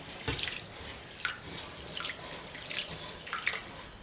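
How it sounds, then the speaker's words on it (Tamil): Chana dal being rinsed with water in a vessel, with soft splashes and dripping that come and go at close range and no voice over them. "தண்ணி சேர்த்துட்டு ஒரு 2-3 முறை பருப்பை நல்லா கழுவி எடுத்துக்கலாம்."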